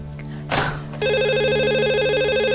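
A telephone rings loudly and continuously after a short burst of noise, its electronic warbling tone steady and close.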